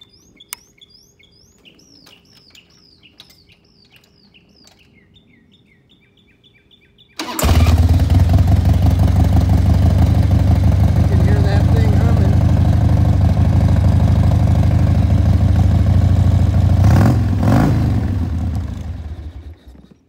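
A 1996 Harley-Davidson Super Dynaglide motorcycle engine cranks and fires up partway through, then settles into a loud, steady, rumbling idle close by, after a quiet stretch of birds chirping outdoors.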